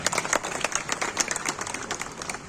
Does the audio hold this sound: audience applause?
yes